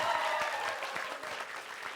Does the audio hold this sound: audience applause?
yes